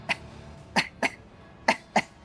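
A person deliberately coughs five times as a simulated abdominal exercise, each cough a short, sharp, close burst separated by brief pauses, with no talking.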